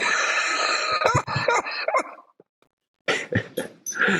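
A dog vocalizes close by in a room with rough, harmonic barks and whimpering bursts, a dense run of calls, then a short silence and another cluster of sharp yelps.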